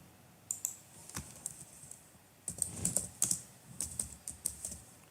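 Someone types a Linux user login name on a computer keyboard, producing quick irregular clicks that come in short bursts, close and fairly soft, with no talking over them.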